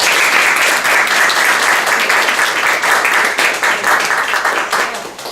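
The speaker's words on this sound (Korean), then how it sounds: "우리 안 목사님 나오실 때 뜨거운 박수로 함께 해주시면 감사하겠습니다." An audience at a church book talk breaks into loud, dense applause to welcome a pastor, holding strong and then thinning toward the end.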